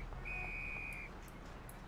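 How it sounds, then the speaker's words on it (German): A single sustained whistle from a character in the 1930s-era video game Mafia, one clear held note lasting under a second over quiet ambient game background. "Er pfeift die ganze Zeit nur rum."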